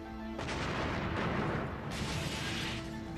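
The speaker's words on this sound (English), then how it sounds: "the air is shattered by a massive explosion" A massive bomb detonates outside the American embassy in Nairobi, Kenya, on a busy morning: a sudden loud, broadband blast that swells and roars without letting up for about three seconds, with no voices.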